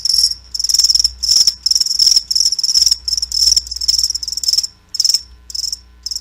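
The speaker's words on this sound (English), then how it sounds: "That's right, crickets." Crickets chirp in steady, loud pulsed bursts with brief gaps, a close and continuous insect trill used as a comedic sound effect in a radio advert.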